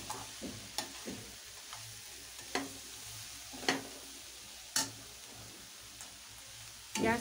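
A kande pohe mixture is stirred in a pan over a medium gas flame, with soft, close scraping strokes spaced roughly a second apart over a faint, quiet sizzle.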